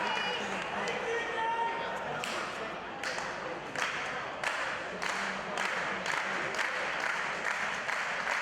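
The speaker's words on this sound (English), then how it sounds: "The crowd coming alive here, appreciating his action out of both men, JT Dunn and Joey Janela." Wrestling crowd at a match with JT Dunn and Joey Janela cheers and applauds steadily through the whole stretch, a dense roar of clapping with periodic swells, while a commentator talks over it.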